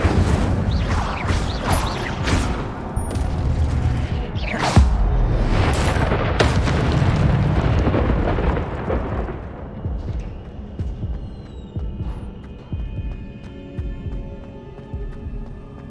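The Incendio fire spell is cast in the Hogwarts Legacy video game, a loud booming, crashing burst with crackling impacts that fade into quieter game ambience.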